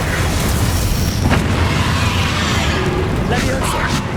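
A loud, sustained blast from the Bombarda spell in Hogwarts Legacy: a roaring, rumbling explosion that fills the whole clip, with shouted spell-casting voices over the combat.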